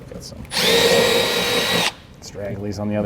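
A power drill bores a hole with a bit while a Roadmaster Universal Hy-Power diode wiring kit is installed on a 2018 GMC, giving one loud, steady whine of just over a second before a voice talks again.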